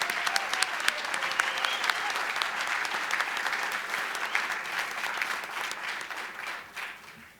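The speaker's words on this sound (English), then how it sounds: "a round of applause for phenomenal champions" Sustained audience applause at a sports award ceremony honoring champions, thick continuous clapping with sharp individual claps standing out, gradually thinning and fading toward the end.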